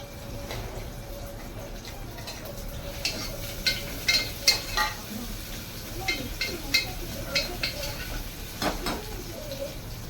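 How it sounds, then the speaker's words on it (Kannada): Onion frying in about three tablespoons of hot oil for green chicken masala gives off a low, steady sizzle, with intermittent spatula taps and stirring clatters close by. "ಅದು ಚೆನ್ನಾಗಿ ಕಾಯ್ದಾದ್ಮೇಲೆ ಸೊ ಈರುಳ್ಳಿ ಹಾಕಿದ್ದೀನಿ"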